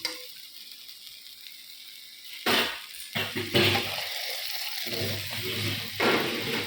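Food frying in a little oil and ghee, a loud hissing sizzle that starts partway in and keeps on steadily with brief stirring breaks.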